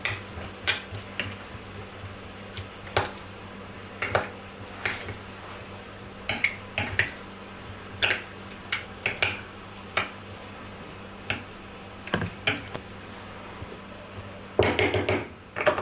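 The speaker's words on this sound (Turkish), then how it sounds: "Güzelce karıştıralım ve sosumuzu tamamlayalım." A utensil clinks and scrapes against a bowl while stirring homemade burger sauce made with barbecue sauce, in irregular taps and strokes, ending in a quick burst of rapid clattering stirring.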